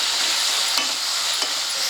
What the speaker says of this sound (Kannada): ನಾವು ತುಪ್ಪ ಹಾಕಿ ಹುರ್ಕೋಬೇಕಾಗ್ತದೆ